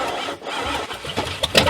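A truck engine with open exhaust on one side cranks and tries to catch, giving rough, uneven bursts and sputters over a few seconds, close and fairly loud.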